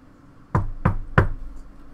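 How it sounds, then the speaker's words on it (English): Three firm knocks on a door in Garry's Mod, evenly spaced and close, each a sharp thud with a short ring, standing alone in a quiet room. "the knock should happen in three, two, one"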